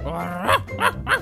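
A Minecraft dog gives three quick, close barks in a row after a short growl.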